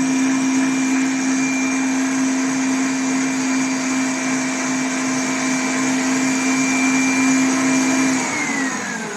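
Steady mechanical whine of an electric mixer whisking sponge batter at close range, holding one pitch before dipping slightly as it slows near the end.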